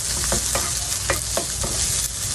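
Garlic and onions sautéing in a pan for ginataang baboy, a constant bright sizzle broken by several light, evenly spaced stirring scrapes, close up with no talking.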